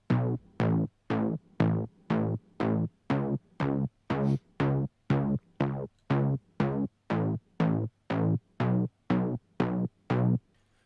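A simple synthesized bass line from a music production plays alone, a run of evenly spaced plucked notes with sharp attacks and quick decays, repeating steadily at close range.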